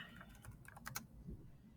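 Quiet, quick keystrokes tap on a computer keyboard in a short, uneven burst, close and soft.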